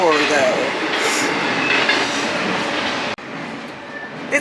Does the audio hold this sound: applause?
no